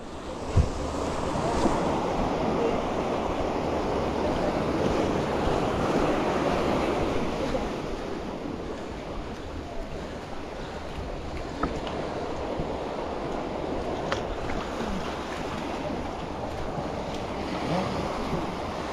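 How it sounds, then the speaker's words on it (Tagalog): Sea waves wash continuously onto the beach at Bolinao, a broad, steady surf roar with gusty wind buffeting the microphone, easing slightly in the second half. "Alon pa naman."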